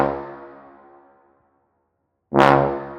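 A staccato sousaphone section built from a software instrument in Logic plays two low brassy notes: the first rings out and fades, and after a short silence the second comes in loud and full.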